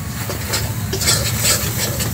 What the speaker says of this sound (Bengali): জল দিয়ে দিয়ে মশলাটাকে আমি একটু খুব ভালো করে কষিয়ে নেব।